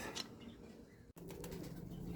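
Pigeons coo softly amid a busy outdoor bird background, with a brief drop-out partway through before the cooing and chatter resume.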